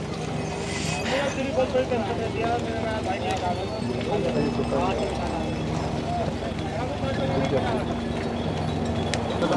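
Horses on the Kedarnath pilgrimage trail beside the Mandakini river clop their hooves in a steady, close rhythm, heard throughout under continuous talking.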